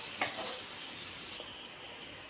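Pineapple kesari being stirred in a pan after ghee is added, giving a steady soft sizzle and hiss with a brief scrape near the start, close and moderately quiet, with no talking.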